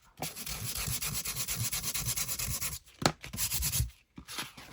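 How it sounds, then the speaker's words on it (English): A sander runs over embossed cardstock with a dense, close rubbing hiss in rapid strokes, broken by two short pauses near the end. "And then I sanded. Where's my sander?"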